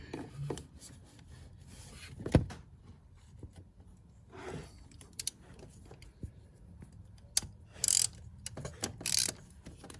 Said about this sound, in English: Okay, now let's attach some of these bolts down here. So we'll grab our socket.